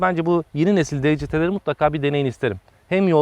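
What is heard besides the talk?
None of the usual background noises is heard.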